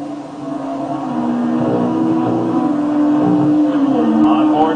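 Touring race cars, including a BMW, roar at close range in a 1996 NATCC race at Toronto, their engines holding a loud sustained tone that rises slightly as they accelerate.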